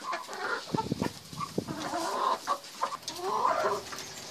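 Several chickens cluck and murmur close by at a feed tray, with overlapping bursts of chatter and soft scratching sounds.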